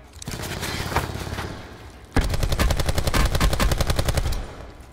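Gunfire fills a Call of Duty: Blackout match. A burst of shots comes first, then after a brief pause a sustained rapid automatic volley rings out loud and close, with no talk over it.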